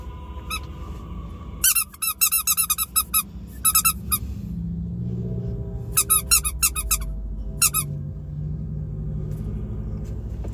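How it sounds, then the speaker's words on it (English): A squeaky pig toy gives rapid bursts of sharp, high squeaks in several clusters, with pauses between them, over a low rumble of passing cars at an outdoor street protest. "I finally have a squeaky pig."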